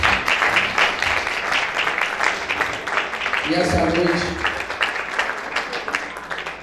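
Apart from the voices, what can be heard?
church congregation applause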